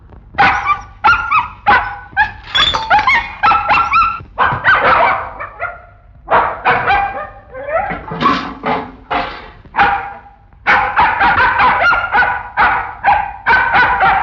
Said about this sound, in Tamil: ஏன் இப்படி குறைக்கிறது?